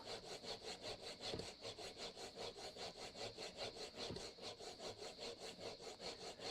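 A steel chisel is sharpened by hand on a stone, with steady rhythmic rasping strokes back and forth, close and continuous, with a constant gritty grinding texture.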